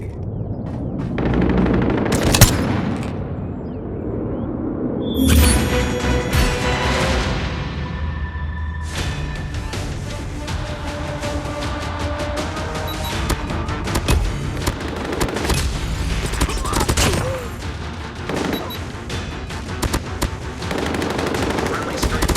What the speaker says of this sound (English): We have called in a strafe run.